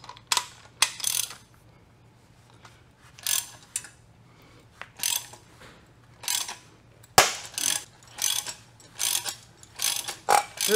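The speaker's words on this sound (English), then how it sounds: "we have the AutoZone puller hooked up. Now we're going to hook up our jaw." A large AutoZone claw puller is cranked tight on a ZF S5-42 transmission part, giving repeated bursts of sharp ratcheting clicks separated by brief quiet gaps, close and fairly loud.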